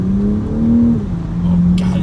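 A car's engine drones close by during a hard paddle shift in sport mode, its tone holding steady and then dropping sharply as the gear engages.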